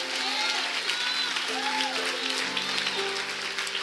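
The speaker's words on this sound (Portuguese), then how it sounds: "quem pode aplaudir bem forte ao Senhor?" A church congregation claps loudly in praise during a sermon, a steady wash of applause, with music tones and voices singing or calling out over it.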